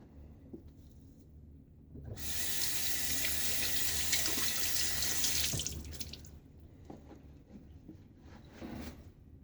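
Tap water runs steadily and loudly for a few seconds as a face and razor are rinsed during a wet shave with a Wolfman WR2 safety razor, then shuts off, leaving quiet handling noises.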